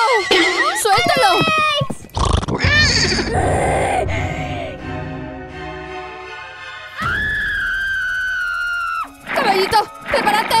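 A cartoon horse neighs in a Gacha Life animation, with several whinnies and bleat-like calls amid excited voices and other animated sound effects.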